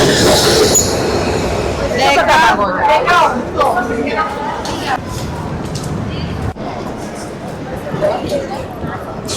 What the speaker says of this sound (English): Milan trams are serviceable, and all over Europe as well. You can see a lot of trams.